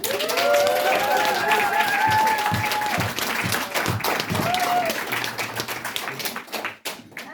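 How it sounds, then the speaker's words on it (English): An awards-night audience clapping for a film director, steady applause with whoops and voices over it, close and fairly loud, thinning out near the end. "Yes, big round of applause."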